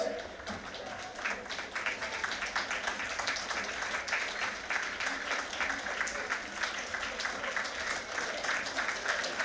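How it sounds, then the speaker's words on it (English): Sustained applause from the crowd at a university outdoor athletics championship as the winner of an 800-metre race comes through, a steady dense clapping that continues throughout, with the announcer's commentary over it. "So Georgina Lloyd getting great applause as she comes through to win this 800-metre race"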